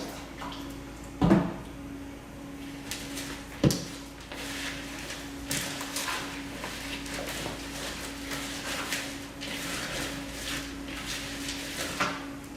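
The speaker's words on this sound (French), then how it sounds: "Quand je mélange le terreau avec ma main et que j'écrase" Moist potting soil mixed and squeezed by hand, soft wet squelching and crumbling with two sharper knocks early on, then a steady run of close, light handling noises.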